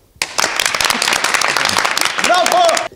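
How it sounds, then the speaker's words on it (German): Students at a music school break into sudden, brisk applause after a piano performance, clapping loud and close for a few seconds, with a voice or cheer rising briefly near the end before it stops abruptly. "Die Schüler geben Applaus."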